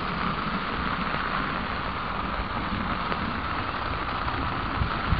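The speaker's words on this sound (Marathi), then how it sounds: "गडगडाट आहे, पाऊस जोरात चालू आहे" Heavy rain pours steadily over a tomato crop field, a dense, unbroken hiss that stays loud and even throughout, with no distinct thunder rolls standing out.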